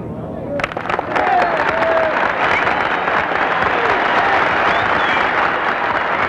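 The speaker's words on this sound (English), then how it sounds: "Deserved applause for Jim Simons, who led after the third round at 3 under." Golf spectators at the final round of the 1971 US Open championship break into steady, sustained applause that swells after a second and holds, a dense crowd of clapping hands with faint murmurs.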